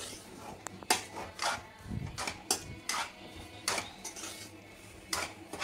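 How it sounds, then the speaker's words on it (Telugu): Spoon scraping and tapping in a pan as semolina (rava) is fried on a low flame for rava laddu, with irregular clinks and scrapes, close and fairly quiet, no talking. "సిమ్లో పెట్టుకొని లైట్ ఫ్లేమ్లో బాగా ఫ్రై చేసుకోవాలి రవ్వని"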